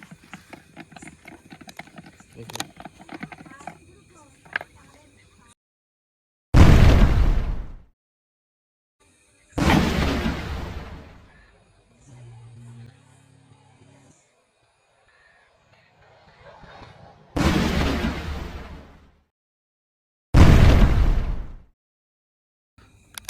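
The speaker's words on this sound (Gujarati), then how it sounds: "ફક્ત ત્રીસ રૂપિયાના ખર્ચામાં આ બોમ્બ તૈયાર થઈ જાય છે" A homemade Diwali bottle bomb, built for about thirty rupees, goes off four times in sharp, loud, booming bursts that decay quickly, separated by quiet stretches holding faint scattered background noises.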